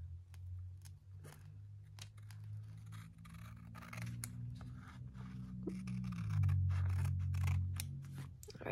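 Scissors trimming paper for a small handmade glue book: a run of crisp snips and slicing cuts with a few scraping pauses, close and fairly quiet over a low steady background hum.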